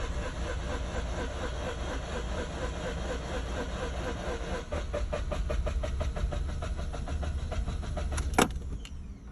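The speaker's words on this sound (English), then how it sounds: "your foot has to be all the way on the accelerator while you crank" A flooded engine on a manual car, rotary with apex seals, cranking with the accelerator held to the floor: a steady rhythmic starter churn over a low drone, ending in a sharp metallic click near the end.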